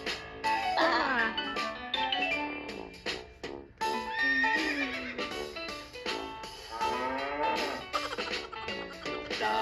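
Sung horse neighs, made by a voice imitating the animal in a children's farm-animal song, repeat in bouncy, melodic bursts over a musical backing. Loud and close throughout.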